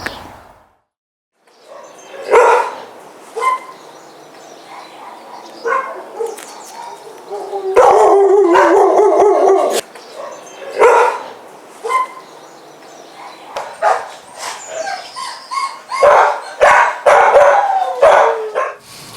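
Several dogs bark and yip repeatedly nearby in an echoing kennel, irregular bursts overlapping one another, with some chatter mixed in.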